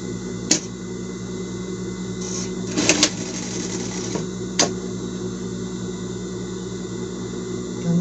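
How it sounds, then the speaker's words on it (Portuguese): A sewing machine stitches a seam across a knit PET fabric shirt with a raglan sleeve, humming steadily at close range for several seconds, punctuated by a few sharp clicks. "E a gente vai passar uma costura aqui de fora a fora."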